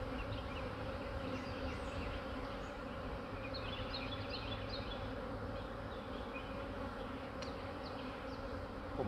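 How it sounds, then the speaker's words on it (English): Honeybees buzz defensively during a beekeeping hive inspection, a dense, steady swarm hum that stays loud and continuous throughout, with no talking. "If your bees are doing this, put it back together, close it up, give them some smoke"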